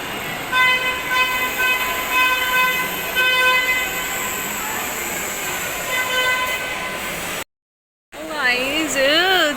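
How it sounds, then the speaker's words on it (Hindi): A children's ride-on train in Venice Mall plays a sustained tonal whistle or melody over loud crowd noise, then cuts briefly to silence before a voice returns. "आ गई देखो, ये है बच्चों वाली ट्रेन"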